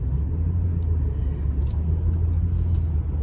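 A car drives along a road with a steady, deep interior rumble of engine and tires, continuous and close, with a few faint clicks over the top.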